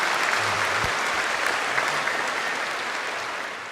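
Audience at a public dialogue applauding, thick steady clapping from a large crowd that gradually fades a little toward the end.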